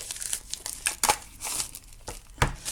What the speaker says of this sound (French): il est emballé dans un petit cellophane. Donc il suffit tout simplement de venir le déballer